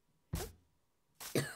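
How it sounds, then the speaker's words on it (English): A person coughs twice, a short single cough followed after a pause by a rougher double cough, close to the microphone in an otherwise quiet setting. "Hopefully this coughing stuff clears up soon."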